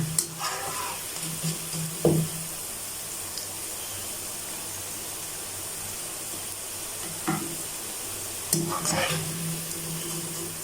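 Cauliflower pieces frying golden in hot oil, a steady soft sizzle running throughout with a few brief stirring clinks and scrapes near the pan, no voices.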